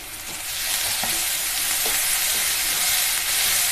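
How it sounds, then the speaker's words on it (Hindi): Onion frying in a pan with coarsely ground ginger, garlic and chili paste added, giving a steady loud sizzle with faint stirring clicks, close and without talk. "प्याज हल्का सुनहला हो चुका है अब इसमें हम अदरक लहसुन और मिर्ची का दरदरा पिसा हुआ डाल रहे हैं"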